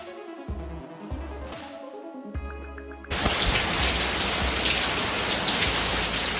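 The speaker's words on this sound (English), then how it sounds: "Rain out here today again" Heavy rain pours down outdoors in a steady, loud hiss that suddenly takes over after a few seconds of quieter kitchen and cooking sounds at a Jamaican-style barbecue.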